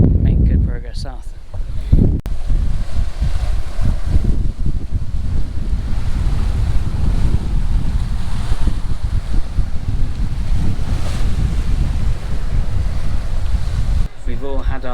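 Strong 20 to 25 knot wind roars over a sailboat at sea on an Atlantic passage from the Canaries to Cape Verde, with waves and wind buffeting the microphone in a constant loud rush; a voice speaks at points.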